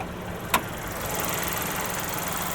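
A 2025 Chevrolet Trax with a 1.2 liter Ecotec flex-fuel engine runs at a steady idle, a constant close hum with one brief click near the start.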